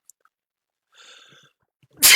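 A single sharp sneeze bursts out loudly at the very end, after a quiet stretch with only faint rustles and small clicks, during an unboxing of a Magic: The Gathering Hobbit booster box.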